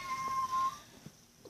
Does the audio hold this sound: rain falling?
no